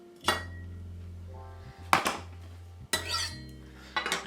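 Three or four short metallic scrapes and clinks of a knife against a dish while crushed garlic is scraped into butter, close up, separated by quieter stretches with a faint hum.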